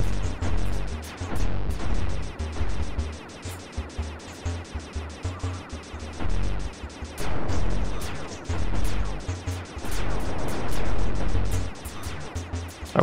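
Loud, harsh distorted noise blares almost nonstop during a hacking minigame in an emulated Sly 2: Band of Thieves, a crackling, clipped roar that pulses in dense bursts for the whole stretch.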